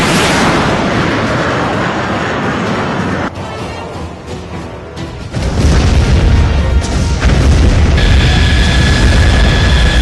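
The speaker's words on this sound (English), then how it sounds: "I've got a missile lock. I'm firing." A missile launched at a ground target and exploding in an action setting, with a sustained loud roaring rush, a brief dip, then a heavy booming blast and rumble that fills the rest.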